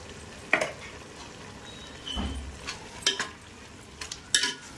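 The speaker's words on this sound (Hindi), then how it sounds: "अब इसको हम अच्छी तरह से भूनने देंगे।" Turmeric, coriander powder and garam masala frying in a pan, a low sizzle broken by a few scraping stirs and utensil clinks, close, with no talk.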